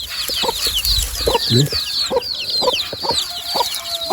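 Native country hens and their chicks cluck and chirp in a yard among plants, with soft repeated clucks, a rooster-like call and a busy layer of high peeping from the chicks throughout.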